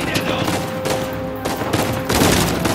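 Rapid gunfire in the Uncharted 4 video game, several dense bursts of shots close together, loud and near, with brief gaps between volleys and no talk.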